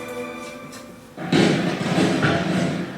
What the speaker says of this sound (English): Those explosions that you hear over there, you know where that is coming from?